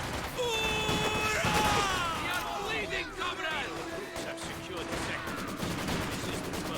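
Company of Heroes 2 battle: dense, continuous volleys of gunfire and machine-gun bursts with crashes, and game voices shouting over the din, loud and busy throughout.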